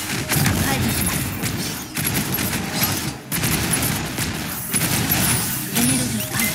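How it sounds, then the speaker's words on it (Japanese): Dense, continuous gunfire in Honkai Impact 3rd pounds with heavy thuds and brief gaps, while a voice speaks over the barrage. "エリア警戒、標的射撃します。"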